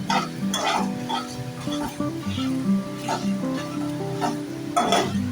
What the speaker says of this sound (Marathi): खोबरं हे सगळं काळी मिरी आणि लवंग हे सगळं एकत्र आपल्याला थोडं एक दोन चार मिनटं छान असं भाजून घ्यायचं आहे